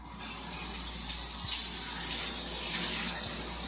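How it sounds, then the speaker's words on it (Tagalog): A hotel shower room's shower runs strongly, a steady loud hiss of spraying water that starts abruptly and holds without a break. No one speaks. "Tingnan naman malakas yung shower."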